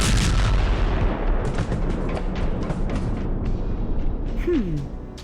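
A loud, heavy blast with dense, roaring rumble that fills the scene, then slowly tapers off, with scattered crackling bursts throughout.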